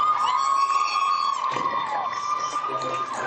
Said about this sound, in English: Gets them to tie game, and it ignites this capacity crowd.